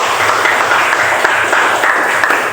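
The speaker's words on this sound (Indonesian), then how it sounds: "Tepuk tangan untuk Mas Aris." Applause from an audience at a school presentation, steady clapping throughout with no talking.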